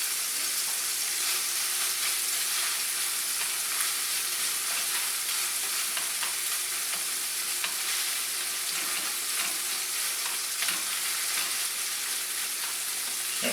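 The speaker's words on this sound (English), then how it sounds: "Now I've got a pan over here that I'm ready to actually make the quesadillas in" Hamburger quesadillas fry in a pan on a stovetop with a steady, bright sizzle and occasional small pops, even and close, with no voices.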